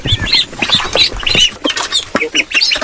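Hybrid chickens loose on a farm squawk and cluck in a busy, overlapping flock, with repeated harsh calls close by and a rough, duck-like quality.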